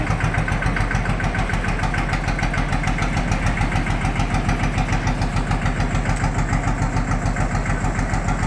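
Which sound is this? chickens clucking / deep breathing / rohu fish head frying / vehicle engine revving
vehicle engine revving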